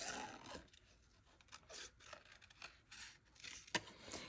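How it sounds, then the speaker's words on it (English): Paper snips cutting around the outline of a Christmas paper craft, giving a series of quiet, crisp snipping and rasping cuts at an irregular pace, with a sharper click near the end. "And you want to cut off that excess paper as you go."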